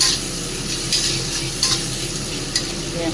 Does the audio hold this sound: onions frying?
yes